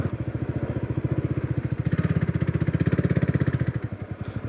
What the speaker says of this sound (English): locals know how to ride off-road with their scooters